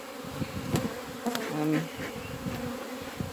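A swarm of honey bees hums and buzzes close around a hive, a steady drone with individual insects whining past in brief rising and falling tones.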